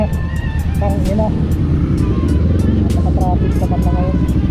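Busy road traffic in Mangaldan, Pangasinan, with cars and motorcycles droning close by and a few horn-like tones, while someone talks over the noise.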